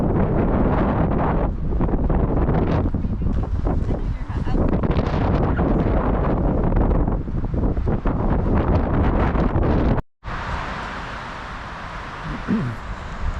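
Strong wind at the Bryce Canyon rim buffets the microphone in a loud, continuous roar, dropping out briefly before a slightly softer gusting rush resumes.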